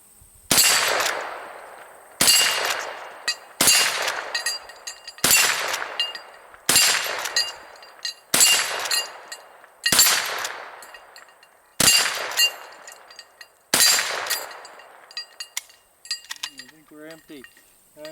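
A lever-action rifle chambered in .357 Magnum firing about eight sharp, loud shots at a steady pace, each crack followed by a short ringing decay and metallic clinks from cycling the lever.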